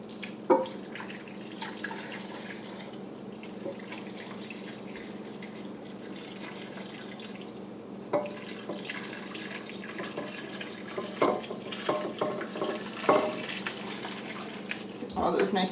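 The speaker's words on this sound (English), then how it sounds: "Okay, we're going to pour our broth." Bone broth pours and splashes steadily into a crock pot for several seconds, with a low hum underneath and a few clinks and splashes toward the end.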